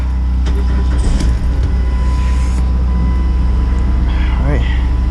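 A 2003 Chrysler PT Cruiser engine, just after a tune-up, runs with a steady low rumble that fills the whole stretch. Voices and faint knocks drift in over the hum.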